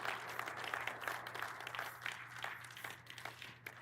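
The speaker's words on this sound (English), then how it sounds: "They forgot to cue the audience clap." Audience applause fills a large keynote hall at the AMD CES 2025 presentation, a steady wash of many hands clapping with some individual claps standing out, fairly loud and unbroken throughout.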